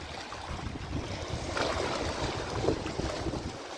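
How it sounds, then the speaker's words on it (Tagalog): Sea waves wash over seaside rocks at Al Khobar, Saudi Arabia, a continuous rushing, hissing surge that swells and eases, mixed with wind buffeting the microphone. "Inaampas ng alon."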